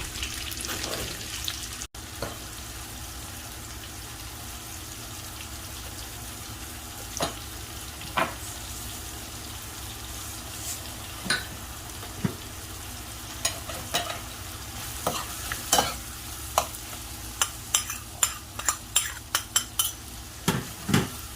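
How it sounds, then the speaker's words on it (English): Sliced mushrooms and chopped garlic sauté in a pan for a chicken marsala, a soft steady sizzle under frequent clicks and scrapes of a utensil stirring against the pan, growing busier toward the end, with no talk. "I just added about 4 cloves of chopped garlic, and I'm sauteing it with the mushrooms for about a minute or so"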